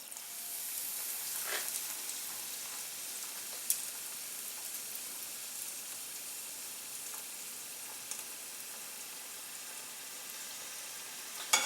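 A taco shell frying in hot oil on a stovetop for an apple pie taco, a continuous soft crackling sizzle with a few sharper pops, fairly quiet and even throughout with no talking.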